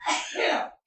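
A single sneeze in two quick bursts, fairly close and loud, then silence, with no talk during it.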